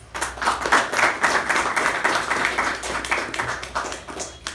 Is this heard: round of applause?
yes